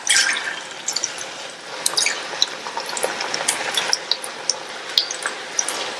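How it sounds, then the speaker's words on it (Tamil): Small pieces of dough dropped into hot oil over medium heat for a side dish sizzle and crackle steadily, with many quick pops and spits scattered irregularly, close and fairly loud, with no talking. "ஸ்டவ் மீடியம் ஹீட்ல வச்சுட்டு கொஞ்சம் கொஞ்சமா எடுத்து எண்ணெயில சேர்த்துடலாம்."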